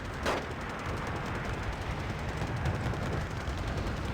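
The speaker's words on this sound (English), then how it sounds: "Moderna engaging the riflemen with both the main gun and the autocannon" Gunfire, autocannon and mortar fire in the Wargame Red Dragon video game, with a sharp shot near the start followed by a dense, continuous battle rumble.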